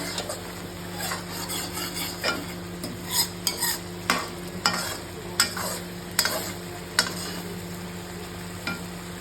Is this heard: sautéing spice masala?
yes